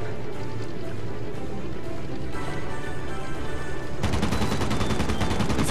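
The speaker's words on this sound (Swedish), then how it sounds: "skotten går ju rakt fram även om siktet är på planet" Aircraft gunfire in the World of Warplanes flight game comes as a dense, continuous rattling burst over steady engine drone. It grows heavier and louder partway through, with no talk over it.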